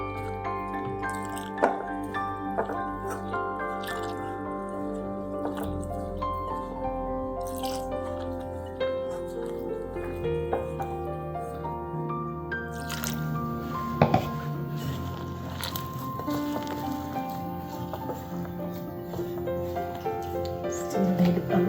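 Samosa dough being mixed by hand with lukewarm water gives a steady soft squishing and dripping, continuous and close, with faint clicks and no talk.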